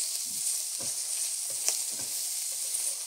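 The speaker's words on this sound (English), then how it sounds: "we will go right in with our doubanjiang chili paste" Doubanjiang chili paste frying in hot oil in a pot for mapo tofu, a steady close sizzle with soft stirring scrapes and a brief sharp click near the middle.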